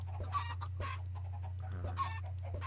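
Farm-game chickens cluck in short, repeated bursts over a steady low electronic hum, a few clucks clustered close together with gaps between them.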